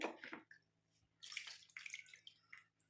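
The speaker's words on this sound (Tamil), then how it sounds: "தண்ணி ஊற்றி காட்டுறேன் போகுதானு" Water splashes and pours in two short bursts separated by a pause, close by and fairly quiet, with dripping and trickling in between.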